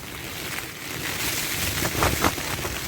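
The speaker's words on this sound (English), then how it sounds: "You can probably hear the wind." Wind gusting across a high desert campsite near Gooding, Idaho, with rain, a steady broadband roar that swells into stronger gusts near the end, close to the microphone and with no voices.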